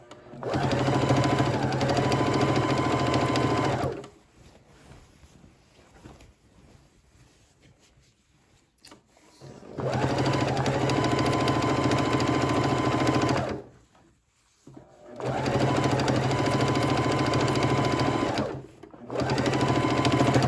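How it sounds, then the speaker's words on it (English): A sewing machine stitches binding through multiple layers of quilt fabric in long steady bursts of rapid stitching, stopping briefly between runs, close and loud with no talking. "This particular sewing machine is really good for multiple layers of fabric."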